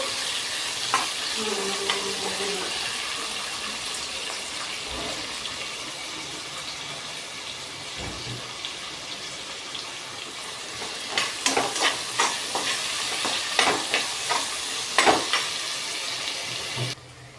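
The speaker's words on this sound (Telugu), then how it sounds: "ఇవి బ్రౌన్ కలర్ వచ్చేంత వరకు వేగాలి" Sliced onions frying in oil until brown for veg biryani, a soft continuous sizzle with occasional ladle stirs and scrapes growing more frequent toward the end, close and quiet.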